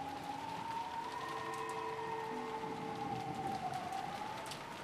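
Steady wind and rain ambience from the visual novel game Umineko When They Cry, a continuous hiss of rainfall at moderate level with a faint wavering tone running through it, with no voices.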